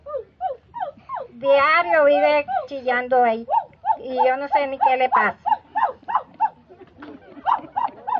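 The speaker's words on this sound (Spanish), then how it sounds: "¿por qué ese perrito llora tanto, vecina?" A small dog whimpers and yelps in repeated high, crying bursts, close and loud, while someone talks over it.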